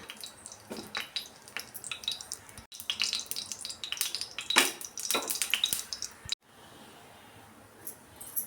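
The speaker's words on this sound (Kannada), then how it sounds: "ಸಾಸಿವೆನ ಸ್ವಲ್ಪ ಚಿಟ್ಪಟ ಅನ್ನಲಿ." Mustard seeds spluttering in hot oil for a vegetable sambar, sharp irregular pops and crackles with clinking of a utensil, louder in the middle, then a softer steady sizzle near the end.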